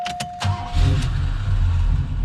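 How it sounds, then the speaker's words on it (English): An Oldsmobile Cutlass engine is started: a few quick clicks and a brief cranking whir, then the engine catches and settles into a loud, steady low idle rumble close by. "we'll get the engine running."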